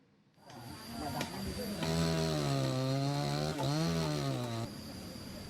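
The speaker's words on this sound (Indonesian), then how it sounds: "Menggunakan gergaji mesin dan beberapa batang kayu, warga berupaya membuat jembatan kayu darurat" A chainsaw starts up and cuts through wooden logs as villagers build an emergency wooden bridge after a landslide, its engine a loud, close, buzzing whine whose pitch dips and rises under load, then drops back to idle.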